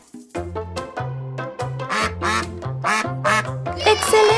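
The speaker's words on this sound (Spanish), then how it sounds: "¡Excelente! Es el pato." A duck quacks repeatedly in quick, nasal bursts over a bouncy, rhythmic music backing, loud and close, in a children's animal-sounds lesson.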